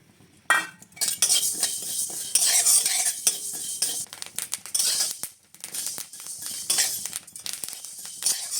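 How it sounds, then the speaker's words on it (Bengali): Olive pickle ingredients fry on low heat in a pan while a metal spoon stirs, scrapes and clinks against it in busy, uneven strokes over a light sizzle. "এরকমভাবে হালকা আঁচে ভেজে নিতে হবে।"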